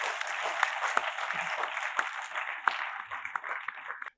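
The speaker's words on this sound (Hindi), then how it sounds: "एक बार जोरदार तालियों से आगाज कर दें" An audience at the close of a training camp gives a round of clapping in a hall, moderately loud and somewhat thin, with a few sharp individual claps standing out before it fades away.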